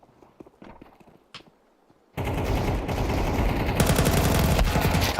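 Rapid Counter-Strike gunfire bursts in a professional esports match, loud and dense after a quieter start of footsteps and clicks, continuing to the end.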